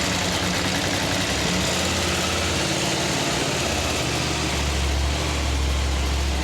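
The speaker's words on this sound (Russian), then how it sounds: "И после этого сделаем запуск двигателей и померяем," A KTM LC8c motorcycle engine runs steadily in a workshop, loud and close with a dense, constant roar and low vibration throughout; no one speaks.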